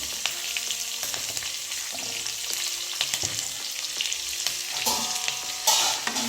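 Green chillies and spices frying in a pan for masala mirchi bhaji, a steady close sizzle broken by occasional stirring scrapes, with faint background music and no talking.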